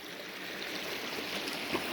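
Natural spring water flows steadily through an olive grove garden, a soft, continuous rushing hiss, faint and unbroken.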